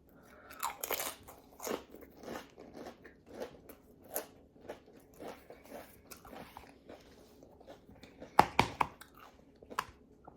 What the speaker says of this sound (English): So I do eat some of the tortilla chips